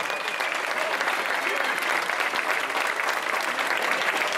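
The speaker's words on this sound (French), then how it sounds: "le public peut applaudir cet immense champion" A crowd applauds a cycling champion at the final-stage awards ceremony of the Tour de Romandie, a steady, dense clatter of clapping with some voices under it.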